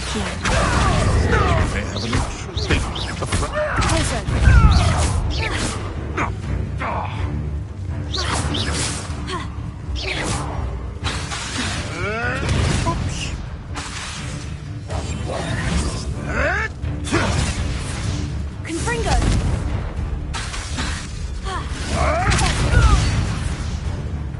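Confringo blasting-spell explosions from the game Hogwarts Legacy, a dense run of loud booms, crashes and whooshes repeating through the whole stretch, with faint voices scattered underneath.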